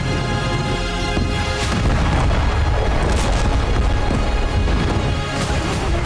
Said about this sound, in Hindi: जबरदस्त धमाके का ये वीडियो इजरायली मालवाहक जहाज का बताया जा रहा है